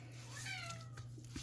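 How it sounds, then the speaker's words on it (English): A house cat gives a single drawn-out meow with a rising-then-falling wail, heard fairly close over a steady low kitchen hum. "My cat."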